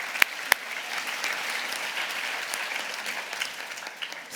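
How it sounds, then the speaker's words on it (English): An audience at a public talk gives itself a round of applause, a dense, even wash of many hands clapping, with a couple of sharp nearby claps at the start. "I want you all to give yourselves a clap."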